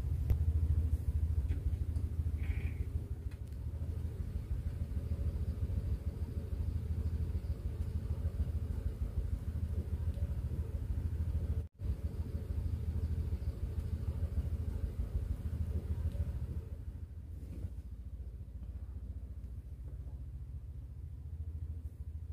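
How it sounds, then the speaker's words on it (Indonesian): A steady low rumble fills a car cabin while the car is driven after rubber seals are fitted to the doors. The drone is even and constant, with one brief dropout midway and a slight quieting near the end. "tingkat kebisingan dari dalam kabin mobil setelah saya pasang karet peredam"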